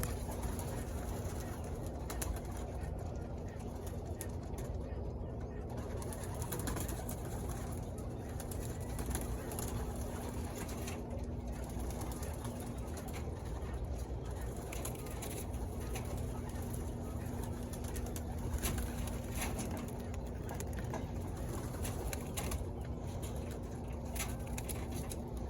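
Pigeons cooing inside a rooftop settling cage, a steady low murmur of soft coos and faint shuffling that runs throughout, moderately close with no talking.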